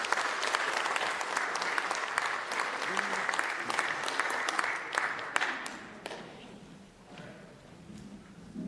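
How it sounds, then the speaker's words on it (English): An audience at a student media showcase gives a round of applause for the students, a steady wash of clapping that fades away over the last few seconds, with some voices underneath. "let's give another round of applause to all these students"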